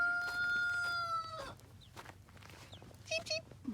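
A small rooster shut in a garden crows once, loud and close, then gives a few short clucks and calls over a steady low outdoor hum.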